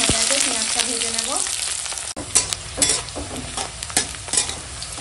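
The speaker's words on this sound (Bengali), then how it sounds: "তেল গরম হয়ে গেছে, পেঁয়াজটা ভেজে নেব" Chopped onions fry in hot oil in a pan, a close, lively sizzle with bursts of stirring and spatula scrapes, under brief background talk at the start.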